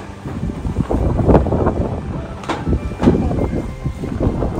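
Steady wind buffets the microphone with rough low rumbling and gusty swells at a fishing park in Japan, loud and close, with no voices.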